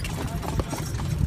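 Horse hooves clip-clop in a steady rhythm as the animal pulls a carriage along a tourist route at Petra, Jordan, close by, with a busy low rumble of voices and movement around it.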